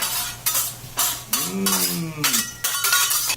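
Metal spatulas clinking and scraping against a plate and pan while food is plated, sharp repeated clanks in uneven rhythm, close and fairly loud with a brief tonal ring in the middle.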